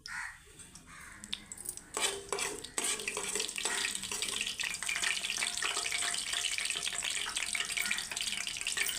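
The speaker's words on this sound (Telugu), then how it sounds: "ఆవాలు చిట్పట్లు ఆడుతున్నాయి" Mustard seeds and fenugreek splutter in hot oil in a pan. Quiet crackling pops begin sparsely, then turn into a dense, steady spatter, with a few clinks of utensils early on.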